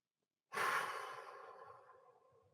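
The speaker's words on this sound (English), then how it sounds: "and breathe out for 4. It's box breathing." A single slow exhale during a box breathing exercise, starting after a short silence as a close, breathy rush that gradually fades away.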